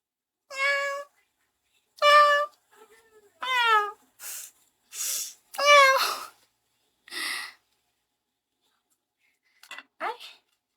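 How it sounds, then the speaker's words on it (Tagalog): A pet cat meows repeatedly in a quiet room, giving several distinct, close, clear calls spaced across the stretch, with a few softer breathy sounds and a faint squeak near the end. "Ito yung pusa ko, guys."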